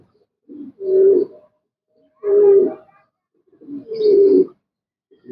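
Three separate bouts of soft, low pigeon cooing, each a throaty rolling coo lasting about a second, with brief quiet gaps between them.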